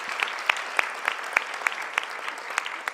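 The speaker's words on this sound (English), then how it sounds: "let's give our second group of students a big round of applause" An audience claps at a School of Medicine graduate studies welcome ceremony, a steady patter of applause with sharp individual claps standing out close by.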